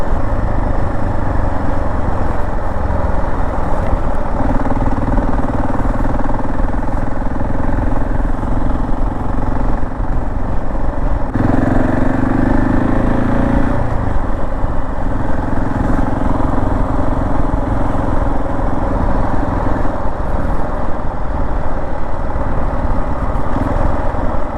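A motorbike is ridden on a road in Serbia, its engine droning loud and close with steady rumble and wind noise, and a brief shift in engine pitch partway through.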